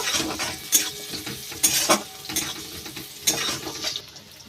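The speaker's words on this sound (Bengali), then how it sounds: "পেঁয়াজটা একটু ভাজা ভাজা করে নিয়ে আদা রসুন বাটা দিয়ে দেব।" Chopped onions frying in a pan with ginger garlic paste, a steady sizzle broken by repeated scraping stirs from a utensil at close range, with no talking.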